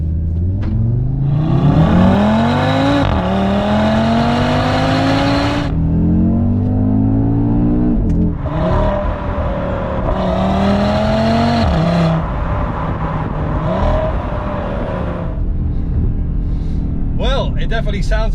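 A 2020 Audi RS Q3 Sportback engine in RS mode revs repeatedly, rising in pitch through several pulls with brief drops between, loud and close, ending with a short burble.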